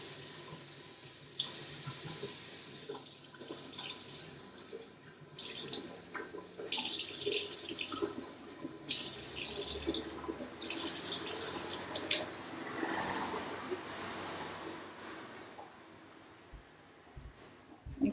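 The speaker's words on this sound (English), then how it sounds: "now I'm just about to go to the tap, make it warm, and fill it up with some warm water" Warm water runs from a tap into a container in repeated gushing bursts, close and loud, with quieter pauses and drips between the flows.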